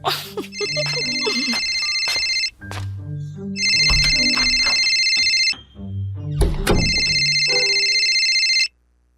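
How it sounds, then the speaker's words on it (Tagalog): Mobile phone ringtone for an incoming call, a loud bright electronic ring repeating in three long bursts with short gaps, close up over faint background sounds. "Sagutin ko lang tong tawag ni nanay."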